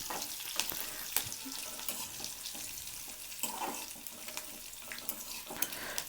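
Dried red chillies and curry leaf sprigs frying in hot oil for temple-style tamarind rice, a steady close crackle and sizzle with scattered sharp pops and light clinks throughout.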